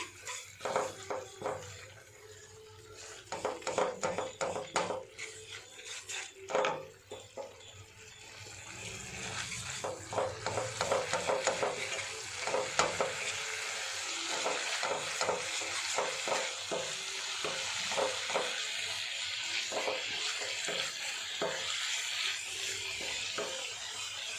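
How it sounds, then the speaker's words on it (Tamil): Sugar added bit by bit to a pan and stirred while cooking a milk sweet: irregular scraping and clinking of the spoon against the pan, then a continuous soft sizzle and bubbling underneath, fairly quiet and close, with no voices. "சுகரை வந்து 3 இதாக பிரித்து கொஞ்சம் கொஞ்சமாக ஆட் பண்ணணும்"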